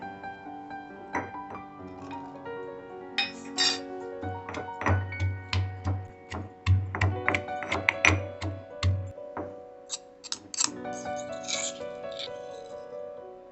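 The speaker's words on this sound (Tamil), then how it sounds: "நான் அந்த பூண்டை உரலில் போட்டு இடிச்சுக்க போகிறேங்க" Garlic cloves are pounded in a mortar, making a run of repeated dull thuds and knocks at a steady pace, close by, with background music underneath.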